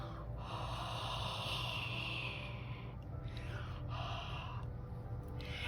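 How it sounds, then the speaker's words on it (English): Close breaths blown over a rubber stamp to moisten it, a few soft airy exhalations in a row with brief pauses, no talking. "So what you do is just take it to your mouth and breathe on it."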